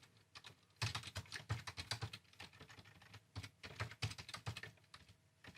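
Fingers type on a computer keyboard close by, a fast, uneven clatter of keystrokes with brief pauses between the runs.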